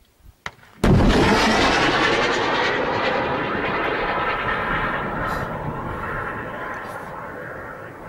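An Mi-24 attack helicopter flies during a combat assault near Talbiseh. After a brief quiet opening, a loud, close engine roar bursts in and holds steady, slowly easing, with voices faintly underneath.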